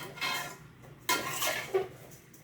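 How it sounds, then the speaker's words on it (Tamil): A utensil scrapes and clanks against a cooking pot as food is stirred. A few distinct metallic knocks and scrapes sound in quick succession, close by with no speech. "நல்லா கிண்டிக்கணும்."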